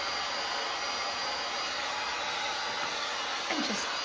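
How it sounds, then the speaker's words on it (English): A small hair dryer blows with a loud, steady whooshing roar to dry wet paint on a canvas, continuous and unchanging throughout. "So just take a little hair dryer"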